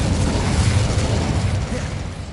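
A fiery blast from the Incendio fire spell roars in Hogwarts Legacy, a loud, dense, rumbling whoosh sustained throughout without clear separate impacts.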